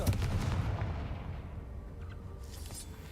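Confringo fire spell blast in the video game Hogwarts Legacy: a loud, deep boom at the start that rumbles and fades into a low roar, with faint crackles toward the end.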